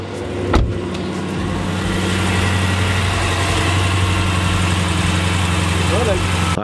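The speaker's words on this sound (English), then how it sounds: "We're gonna give it a start now." Jeep Grand Cherokee SRT 6.4-liter Hemi V8 cranks briefly, then fires and settles into a loud, steady close-up idle after a belt tensioner replacement, a voice speaking over the start.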